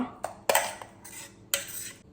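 A spoon clinks and scrapes against a bowl in a few sharp, irregular strokes while mixing salt into Mattu Gulla eggplant bharta, close and fairly loud, with no voices.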